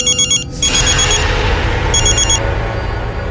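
A telephone rings in short electronic bursts, a few quick trills at the start, then a louder broad burst of noise before the ringing returns once more, fairly close and prominent.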